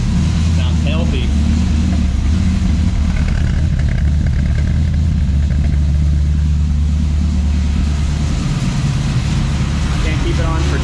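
A car engine idles steadily nearby, a loud, continuous low rumble with some clattering texture, while someone talks intermittently over it.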